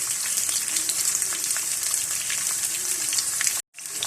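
Spanish omelette frying in a pan over a low flame, a steady close crackling sizzle that breaks off briefly near the end before resuming.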